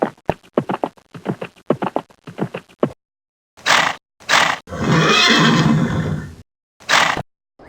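A horse in a video game whinnies loudly and close, a long shrill neigh preceded by rapid breathy snorts and followed by short huffs.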